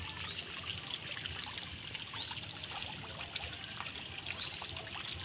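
Water runs constantly out into a tank holding two-day-old hito catfish fry, a faint, steady trickle and splash.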